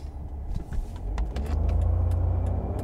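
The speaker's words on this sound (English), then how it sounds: "It goes from first to sixth gear in like three seconds." A 2009 Mercedes E320 Bluetec diesel with a boost problem drives along, its engine hum swelling steadily and holding a low, loud drone through the back half as it runs up through the gears, with small cabin clicks and rattles.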